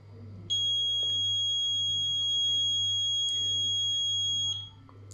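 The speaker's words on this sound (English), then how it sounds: "it's going to give him a long constant beep until he locates the stick" An Arduino-based smart walking stick locator for the blind sounds a long, constant high-pitched electronic beep, steady and unbroken for several seconds before cutting off, with faint background hum.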